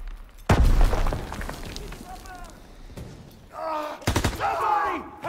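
Grenade blast and battle gunfire in the Call of Duty: WWII D-Day campaign: a loud deep boom early on, then scattered shots and a second sharp burst, with soldiers shouting over the fighting.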